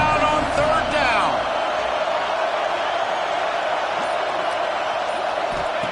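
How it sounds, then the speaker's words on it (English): Roaring crowd noise fills a college football stadium as Gators fans urge their defense on third down, a loud, sustained wash with a commentator speaking over it. "This crowd unhinged, trying to make sure the Gators don't back down on third down."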